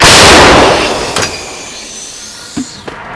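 A single powerful blast from a British 105 mm howitzer booms at the start and rolls off into a long fading rumble, followed by a couple of faint distant thuds.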